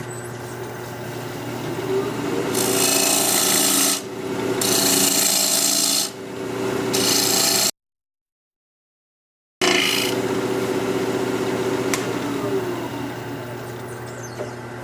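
A wood lathe spins a small cherry live-edge bowl while a tool cuts a tenon on its bottom, giving a steady motor hum under bursts of loud scraping, broken by a short gap of silence.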